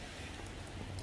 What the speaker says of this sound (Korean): 비가 와서 좀 불편하네요.